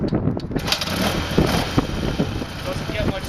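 A 1969 BMW R60US motorcycle kick-started from cold, with a steady mechanical engine rumble and clatter running throughout, close and fairly loud, with irregular knocks and thumps.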